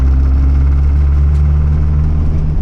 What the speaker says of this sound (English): That's the noise why I'm rebuilding the engine.